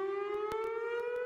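A civil defense tornado warning siren sounds as a steady, loud sustained wail carrying alone, with a few faint clicks over its brief span.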